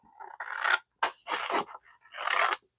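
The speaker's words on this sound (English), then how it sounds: "So you grab your fuzzy cutting scissors, and you start" Fussy-cutting scissors snip through paper embellishments in close, quick bursts, four or five short crisp cuts separated by brief pauses, with no talking.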